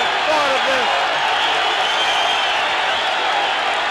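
A large boxing arena crowd roars on its feet in tribute after a hard-fought fifteenth round in Montreal, a dense, steady wall of cheering and applause at close range, with a brief voice at the start.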